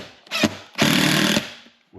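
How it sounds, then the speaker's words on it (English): A power drill drives construction screws into plywood for shop walls in two bursts, a short whir and then a longer steady one, close and loud. "Gotta be kind of careful with these construction screws not to overdrive them"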